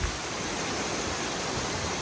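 Steady broadband roar of a nearby waterfall where ammonite nodules are laid out for cracking, a dense continuous rush of falling water with no breaks and no voices.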